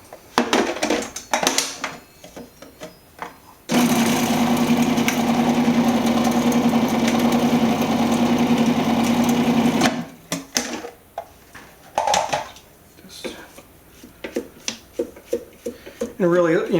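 A food processor chops four cloves of garlic with fresh herbs in a loud, steady whir lasting about six seconds, with kitchen clatter and brief talking before and after.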